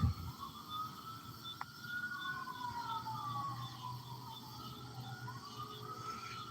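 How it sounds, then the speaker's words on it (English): A wailing ambulance siren rises and falls repeatedly in the distance over a low rumble of traffic, with no talking. "I hear them there sirens."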